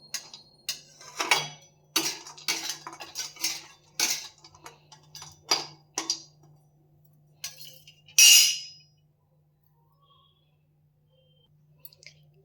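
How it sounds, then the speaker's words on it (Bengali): Dried dates stirred briefly in a hot frying pan while cooking a homemade dish, giving a run of close, sharp clicks and scrapes of utensil on metal, then a final louder clatter and near silence. "এবার চলে যাচ্ছে শুকনো খেজুর। একেও জাস্ট একটু হালকা নেড়ে নেব, নেড়ে আর কি গরম করে নেব।"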